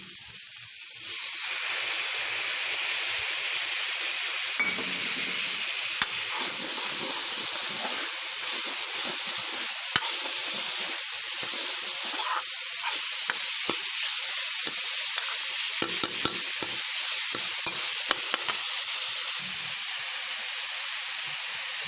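Onion, garlic and tomato fry and get stirred in a pan for a dry radish and radish-leaf dish, giving a steady close sizzle and hiss with occasional scraping stirs and clicks, no talking.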